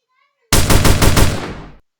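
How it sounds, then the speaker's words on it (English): Rapid burst of pistol fire in a Roblox video game, about seven sharp shots in quick succession over roughly a second, loud and close, ending in a short decaying tail. "Okay, now we're just gonna test a pistol."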